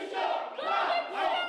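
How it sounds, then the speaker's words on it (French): Crowd at a Macron support rally booing and shouting demands, a dense wall of raised voices swelling and dipping in waves throughout. "C'est sous les huées et les revendications que se termine le meeting de soutien au candidat Macron"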